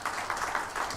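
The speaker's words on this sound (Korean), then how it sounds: "수고하신 우리 부장님들에게 감사의 박수 하겠습니다." A church congregation at a Sunday service claps for the department heads, a brief burst of scattered, moderately distant applause with a rough, uneven rhythm.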